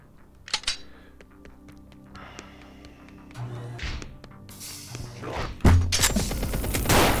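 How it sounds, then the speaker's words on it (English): Gunfire in the VR shooter Compound, a few sharp isolated shots early, then denser, louder bursts of rapid fire toward the end, with some thuds and mechanical clicks between. "just run away from the machine gun"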